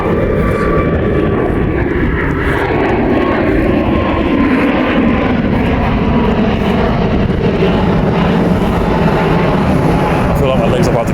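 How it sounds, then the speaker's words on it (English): An airplane takes off near Hatton Cross beside Heathrow, a loud, sustained jet roar that holds for the whole stretch and slowly shifts in pitch as it climbs away. "Plane just left off straight off that one."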